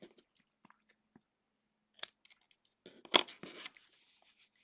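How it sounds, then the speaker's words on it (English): Scissors snip through yarn while a crochet mini mushroom is finished, a few quiet clicks and then a sharper crisp snip with small rustles, close and faint in otherwise near-silent surroundings. "And then we're going to cut our yarn."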